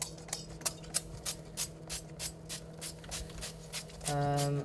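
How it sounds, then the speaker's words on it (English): Quick repeated bursts of low-calorie cooking oil spray hiss into a hot pan in a steady rhythm, close by and fairly quiet, with a faint hum underneath. "we want to get our 1 calorie spray and just get that all the way around"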